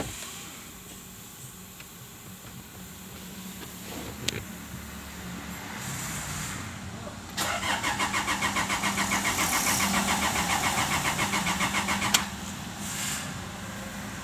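A Toyota diesel engine cranks and catches after the fuel is hand-pumped, then idles with a steady, rhythmic diesel clatter close by, growing slightly louder before settling.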